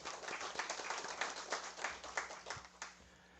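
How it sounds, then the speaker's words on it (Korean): Scattered, thin applause from a small audience at a district government meeting in Geumcheon-gu, following a staff presentation, with sparse individual claps over a quiet room. "다시 한번 큰 박수 부탁드리겠습니다"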